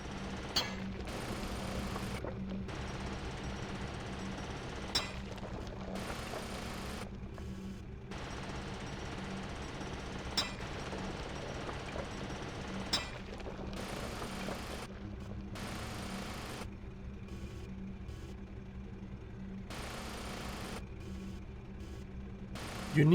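A mining mech drills through the ground in the Mining Mechs video game, giving a steady low grinding rumble that cuts in and out in repeated bursts over about twenty seconds, with occasional sharp clanks and no talk.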